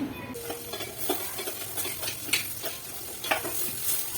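Spices for tempering sizzle and crackle in hot oil in an iron pan while a spoon stirs and scrapes, close and steady.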